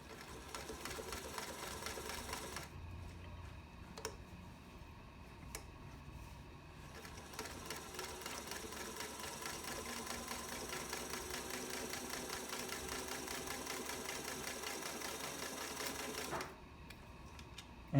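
A 1947 Singer 221 Featherweight sewing machine, freshly overhauled, running smoothly and stitching fabric with a fast, even mechanical whir and chatter, steady and close, stopping briefly and resuming, with no talking.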